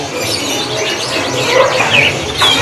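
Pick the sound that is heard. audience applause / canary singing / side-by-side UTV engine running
canary singing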